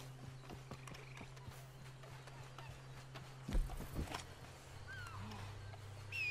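Horse hooves clop in a slow, irregular walk in the Red Dead video game, set over a steady low hum, with a louder scuffing burst midway and faint ambient chirps.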